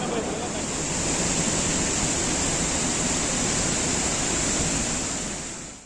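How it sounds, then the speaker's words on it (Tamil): The Meghamalai waterfall, flooding in a forest after sudden heavy rain, gives off a continuous, dense, roaring rush of water that stays loud and unbroken throughout. "வனப்பகுதியில் திடீரென பெய்த கனமழையால் மேகமலை அருவியில் வெள்ளப்பெருக்கு ஏற்பட்ட நிலையில்"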